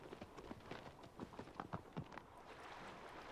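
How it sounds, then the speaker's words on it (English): Hooves of a horse in the game Shadow of the Colossus thud in an uneven galloping rhythm, faint and somewhat muffled, with no talk over them. "Fucking horse."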